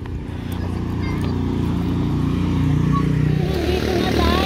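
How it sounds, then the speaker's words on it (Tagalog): A small child rides a horse, whose hooves clip-clop in a steady rhythm, loud and close, with a continuous low rumble and voices in the background. "Ang galing magpatakbo ng kabayo."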